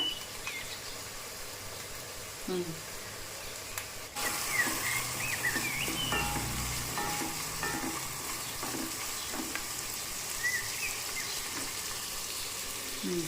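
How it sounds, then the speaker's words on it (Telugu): Ginger garlic paste fries in hot oil for a chicken biryani while a spoon stirs it, giving a continuous close sizzle with scraping and clinking that turns louder and busier partway through, and faint chirps in the background. "అల్లం వెల్లుల్లి పేస్ట్ పచ్చివాసన పోయేంత వరకు ఫ్రై చేసుకోవాలి."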